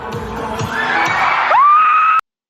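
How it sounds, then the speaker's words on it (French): A crowd of fans at a meet-and-greet with a YouTuber screams hysterically, loud high-pitched shrieks and cheers that rise into one sustained scream before cutting off abruptly. "Je suis vraiment désolée pour tous les cris hystériques."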